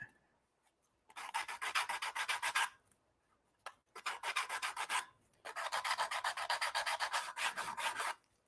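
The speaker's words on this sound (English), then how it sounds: "we're just going to hit it with the emery board or sanding stick" An emery board or sanding stick files down small nubs in three long bursts of close, steady rasping, with short quiet pauses between them and no talking.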